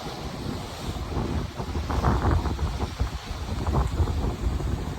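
Rumbling wind buffets the microphone over the wash of sea waves breaking nearby, a steady roar that swells and eases, with no one speaking.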